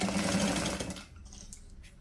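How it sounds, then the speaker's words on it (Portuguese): A sewing machine stitching a fabric panel with a presser foot, a loud, close, fast mechanical whirr for about a second that stops abruptly, followed by faint clicks and handling noise. "vamos passar uma costura nessa parte de baixo"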